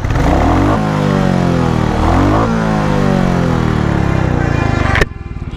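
A Royal Enfield Bullet 350 engine is revved hard with the throttle at close range, rising and falling through repeated rev sweeps before cutting back sharply to a lumpy idle.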